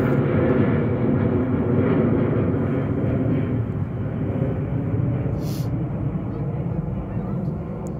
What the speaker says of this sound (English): We got airplane coming overhead.